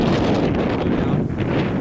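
Steady, blustery wind buffets the microphone with a low, rough rumble throughout, with no voices.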